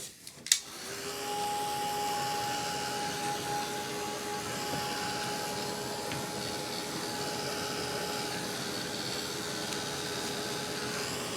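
A dryer blows steadily on wet acrylic paint in an art journal, starting with a click and a sharp thump, then holding a continuous, fairly quiet whirring hiss with a faint whine throughout.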